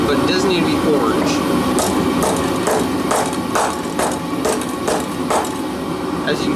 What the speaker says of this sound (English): we're gonna come up on the anvil and I'm gonna bow the tip down, give it a little bit more curvature to it